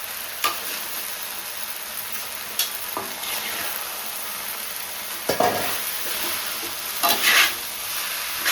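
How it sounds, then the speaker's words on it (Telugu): Veg noodles with pepper and noodle masala sizzle in a hot pan while being stirred and tossed, a continuous frying hiss broken by clattering scrapes of the utensil against the pan. "కొంచెం పెప్పర్, కొంచెం నూడిల్స్ మసాలా వేసేసి ఈ మొత్తం నూడిల్స్ వేసేసి చక్కగా కలిపిన దాకా తిప్పాలి"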